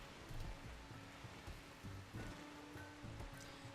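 Steady rain falls in the colony-building game Rimworld, a soft, even patter of drops at low volume with faint scattered ticks, continuous and without voices.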